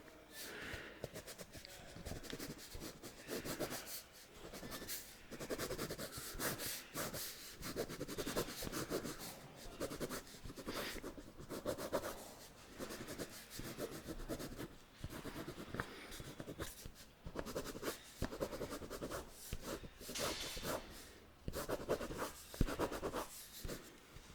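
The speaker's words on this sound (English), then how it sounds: "I'm just gonna write them down." Pen scratching steadily across paper while body measurements are noted down, a continuous close, soft scribbling with short strokes and pauses, in a quiet whispered ASMR setting.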